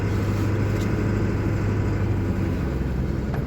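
A car engine roars and accelerates away toward a red light on a city street, a loud sustained low rumble that holds fairly steady, heard alone.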